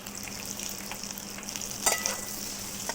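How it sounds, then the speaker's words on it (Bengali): An egg fries in a hot wok with a steady, close sizzle, and a brief clatter of stirring comes partway through. "ডিমটা কড়াইতে ভেজে নিচ্ছি"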